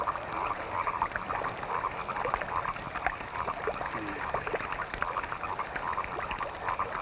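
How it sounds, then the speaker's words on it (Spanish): Dense chorus of frogs croaking at night, a steady overlapping din of calls filling the whole stretch with no voices heard. "Esas ranas me están volviendo loca a mí también."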